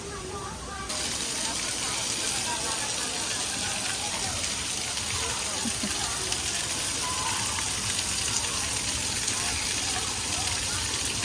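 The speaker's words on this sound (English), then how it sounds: "This is a little spring that goes down into the splash pad area." A small spring flows down into a splash pad area at a Disney World resort pool, making a steady, close, continuous rush and splash of water that holds evenly throughout.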